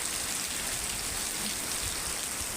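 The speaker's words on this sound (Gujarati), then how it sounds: "જો વરસાદ ચાલુ છે" Steady rain falls outdoors on a farm, a constant even hiss of drops at moderate volume with no voices.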